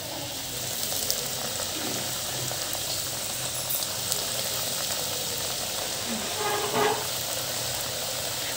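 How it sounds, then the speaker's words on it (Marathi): Chakli deep frying in moderately hot oil over a low flame, giving a steady, even bubbling hiss that continues throughout without pause. "आता आपण डीप फ्राय करून घेऊया"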